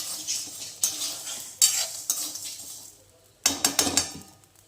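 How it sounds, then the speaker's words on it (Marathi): A spoon stirs tapioca-like grains roasting in ghee in a metal pan, with sharp scraping clinks in uneven bursts over a soft sizzle, close and fairly loud. "तर आणखी याला आपण थोडंसं भाजून घेऊया आणि याच्यावरती आता आपण तूप टाकूया."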